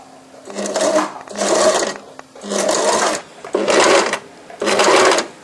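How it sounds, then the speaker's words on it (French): A sewing machine topstitches bias binding 1 mm from the edge of a jabot jacket, running in five separate, evenly spaced bursts of steady stitching with short pauses between them. "on va surpiquer tout au bord à 1 mm du bord sur l'endroit, donc très régulièrement"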